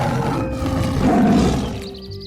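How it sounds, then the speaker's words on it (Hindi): A lion roars through a jungle, a deep, rough, sustained roar that swells near the middle and fades toward the end, loud and close with no other voices. "किसी शेर के दहाड़ने की आवाज जंगल में गूंजी"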